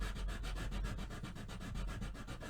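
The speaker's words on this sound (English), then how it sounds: "Man, this is a really sharp file. And you can see I'm pushing down pretty hard," A sharp hand file, pressed down hard, files a part of an acoustic guitar being converted from right- to left-handed, giving a fast, even series of close rasping strokes with no talk.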